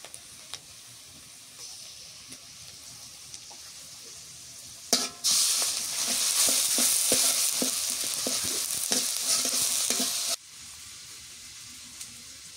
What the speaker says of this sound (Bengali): মরিচ পেঁয়াজ ভাজা হয়েছে, এখন দিয়ে দিই রসুন বাটা আর দিয়ে দিই পেঁয়াজ বাটা